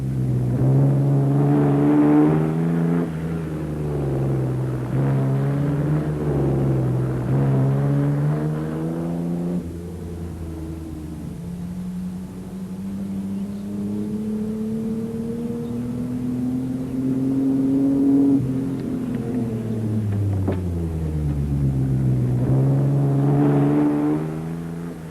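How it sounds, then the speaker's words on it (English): French-driven Mini rally cars driven hard on a rally stage, small engines revving loudly and close, pitch climbing and falling through gear changes across a long pass with no talk. "The French-driven Minis still hammered on, but Berge there had lost his brakes"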